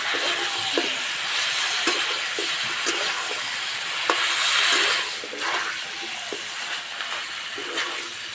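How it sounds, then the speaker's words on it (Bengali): Chicken pieces sizzle and fry in a pan as a spoon stirs and scrapes them at intervals, with a steady hiss throughout, close and moderately loud, and no talking. "সবসময় এইভাবে নাড়তে হবে, নাহলে তলাতে লেগে যাবে।"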